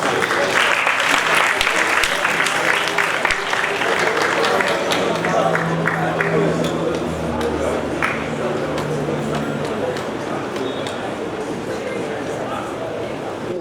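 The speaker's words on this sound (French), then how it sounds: "Donc applaudissez-les pour le présent." At an Africa Day celebration at the African Renaissance Monument, a large crowd applauds loudly and continuously, with the dense clapping persisting throughout under faint crowd voices.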